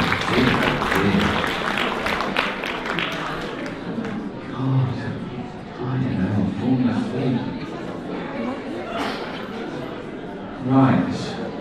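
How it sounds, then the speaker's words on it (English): Audience applause at a poodle show gala, with clapping and crowd chatter rising and falling across the clip, including a louder burst near the end, under ongoing talk. "Let's give them a clap, come on."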